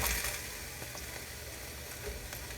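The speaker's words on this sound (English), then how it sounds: "Listen to that sizzle." Vegetables dropped into a heated pan of shimmering avocado oil for a keto stir fry, giving a steady bright sizzle that flares at the start and then holds at an even level, with no talk over it.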